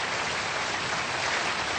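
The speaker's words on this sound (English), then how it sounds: "Now you can applaud." Studio audience applause on a television comedy show, a brief dense burst of clapping at a constant loud level without any speech.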